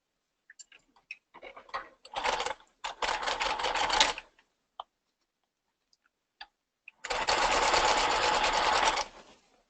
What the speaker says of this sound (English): So I'm going to stitch that down with a sewing size stitch.